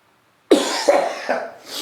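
A man coughs three times in quick succession, close and fairly loud, each cough a sharp burst fading into breath, with a short exhale at the end.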